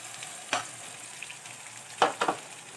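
Ground masala frying in a pan for a chickpea bhaji, a soft sizzle under a few sharp scrapes and clinks of stirring at the start and again near the end, fairly quiet and close.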